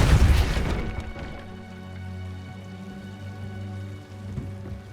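A Depulso force spell is cast in the video game Hogwarts Legacy, giving a sharp burst at the start that fades into a low, humming tonal ambience.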